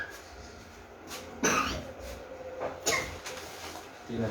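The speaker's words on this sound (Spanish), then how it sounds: "Tiene tos." A few harsh coughs burst out over quiet room noise, one around the middle and another later, with softer throat sounds in between.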